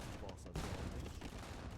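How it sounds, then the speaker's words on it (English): Bombard cannons fire in the video game Age of Empires II as a faint, dense volley of gunfire bursts under quiet game noise. "The 2 bombard cannons trying to kill the siege from far."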